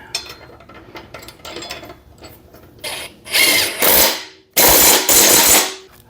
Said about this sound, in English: I always torque my blades on after I run them on with an impact gun